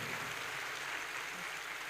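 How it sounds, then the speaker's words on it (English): Steady applause from an audience at a university ceremony for the acting Vice Chancellor, a dense wash of many hands clapping held at an even level throughout, with no voices standing out. "shall we double the applause for the acting Vice Chancellor?"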